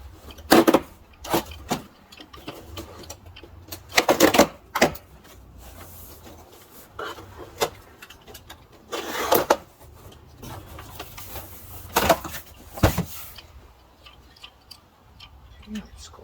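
A cardboard box holding a galvanized metal raised garden bed is opened by hand, a run of crisp scraping, tearing and crinkling bursts with quiet pauses between, close by and with no one talking.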